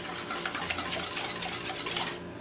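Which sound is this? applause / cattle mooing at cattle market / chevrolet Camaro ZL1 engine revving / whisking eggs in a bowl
whisking eggs in a bowl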